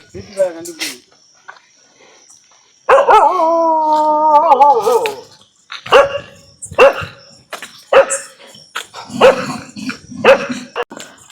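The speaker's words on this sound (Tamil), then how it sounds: "வல்லு வல்லுன்னு குலைக்குது" Village dogs howl in a long, wavering cry, then bark in a series of sharp, repeated bursts, close by with some voices in the background.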